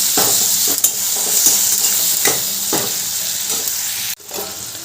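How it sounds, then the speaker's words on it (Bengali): Ginger paste stirred into hot oil in a pan for a veg dal, a steady close sizzle and frying hiss with repeated spoon scrapes and stirring knocks, briefly dipping near the end. "আদা মাখাটা ভালো করে তেলের সাথে মিশিয়ে দিচ্ছি"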